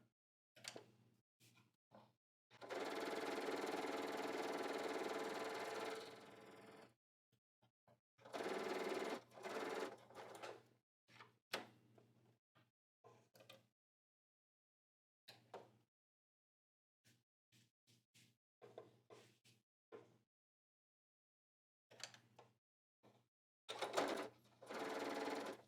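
Sewing machine stay stitching fabric pieces just above tailor tacks at the 5/8 inch mark: a close, steady whirring hum runs in several long and short bursts with gaps of near silence between them.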